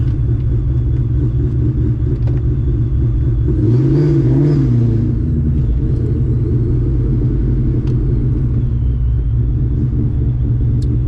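A 1998 Ford Mustang Cobra idles with a loud, deep rumble, then revs briefly once before settling back to a steady idle, heard close with no talk.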